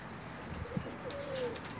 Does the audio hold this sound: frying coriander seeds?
no